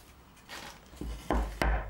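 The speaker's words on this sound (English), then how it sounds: "See what it's like chopping it up with the belly" A Sanrenmu 6050LUF-PH-T4 folding knife chops on a wooden chopping block, three crisp knocks a fraction of a second apart after a soft scrape, near and fairly loud.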